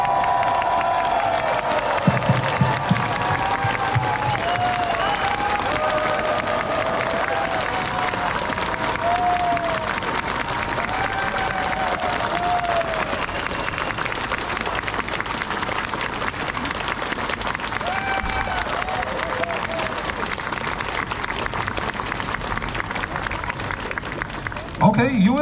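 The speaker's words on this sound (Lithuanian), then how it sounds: "išreiškit savo simpatijas plodami mūsų svečiams iš Jungtinių valstijų. 3, 2, 1, plojam baltajam orkestrui" An outdoor crowd at the Klaipeda Sea Festival in Lithuania applauds and cheers a US Navy band in a long, steady wash of clapping, while a host talks over it through a loudspeaker.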